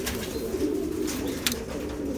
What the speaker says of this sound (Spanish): Lindísima está esa paloma mahona.